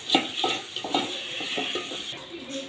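A meat roast stirred in an open, uncovered pot with powdered milk, dried plums and potatoes, a spoon scraping and clinking against the metal in short irregular strokes over a soft sizzle, close and moderately loud.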